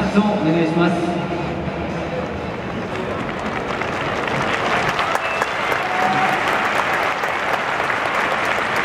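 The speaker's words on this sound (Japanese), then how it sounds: "大きな拍手をお願いください。" A stadium crowd of Yokohama F. Marinos supporters applauds retired players, dense clapping and cheering that starts under an announcer's voice and swells into continuous loud applause.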